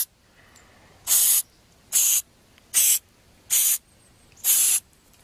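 Silicone sprayed into a Portland cement mix in five short, evenly spaced hissing bursts about a second apart, close and clear over a quiet background.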